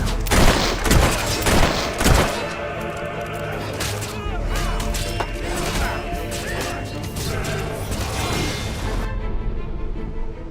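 Enemy soldiers firing on the player in Fable 3: several sharp, loud gun cracks in the first seconds, then sustained crackling volleys of battle fire, with voices talking over it.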